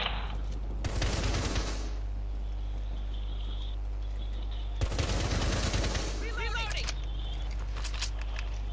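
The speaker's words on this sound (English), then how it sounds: "Stop shooting." Two loud bursts of rapid automatic gunfire in Rainbow Six Siege, each lasting about a second, separated by quieter game ambience, with a low constant hum underneath.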